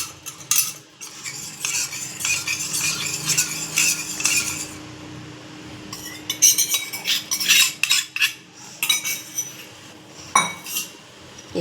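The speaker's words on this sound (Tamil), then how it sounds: "இப்போது கைவிடாமல் கொஞ்சம் கலரலாம்." A spoon stirring a cornflour mixture in a cooking pot for chikku ice cream, with loud, continuous scraping and clinking against the metal that later breaks into sporadic knocks.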